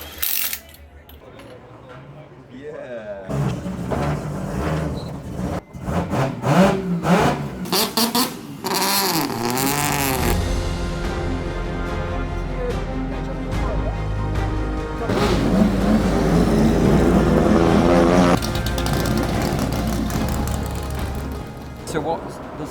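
A 3-rotor Volvo 740 accelerates up the Goodwood hill, its engine rising and surging through loud revving pulls that build and hold, heard close over background noise and crowd.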